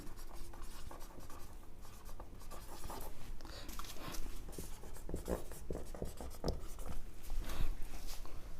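Marker or chalk writing on a board during a chemistry lecture, with soft scratchy strokes and taps in irregular bursts and no talking.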